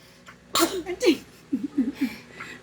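A single sudden sneeze, followed by a few short voiced sounds and breaths, close by and fairly loud.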